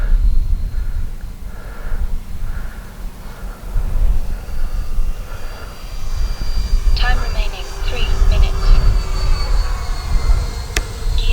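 An FMS Viper RC jet flies at reduced throttle, its ducted-fan whine a steady, moderately distant whoosh that swells and fades as it passes, with some wind and handling noise close by.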